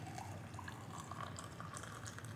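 Steeped lavender liquid is poured through a small strainer, a continuous close trickle and splash of liquid that holds fairly steady throughout.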